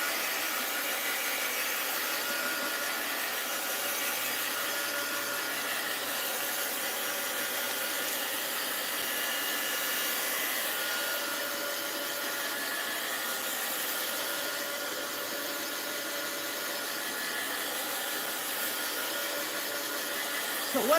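A handheld dryer blows a steady, even whoosh over a craft project for about twenty seconds, constant and fairly close with no talking.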